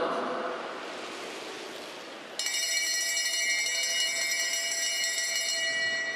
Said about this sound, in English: The bell sounds again.